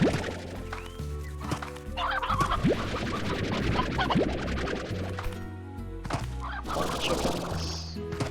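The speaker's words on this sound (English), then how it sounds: "Still hear chicken." Chickens clucking in the video game Slime Rancher, with short fowl calls scattered over game music and ambient sounds.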